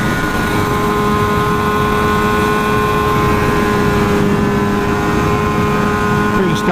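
A Yamaha RD350LC two-stroke motorcycle, bored out, climbs uphill with its engine held high in the revs, giving a loud, steady buzzing drone that persists throughout.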